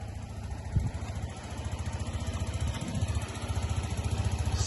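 A Suzuki Address V125 S scooter engine running steadily nearby, a continuous low throbbing hum that rises slightly in level toward the end, without speech.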